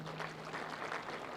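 Crowd applause for labor leaders at a political gathering in Kenya, a dense steady clatter of clapping from many hands, fairly distant and continuous throughout.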